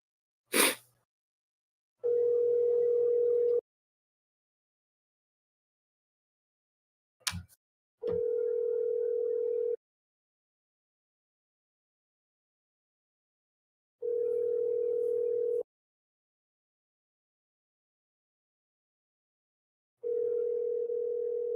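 A telephone ringback tone repeats four times, each a steady buzzing burst of about a second and a half separated by long silences, faint and even, with a couple of sharp clicks between rings.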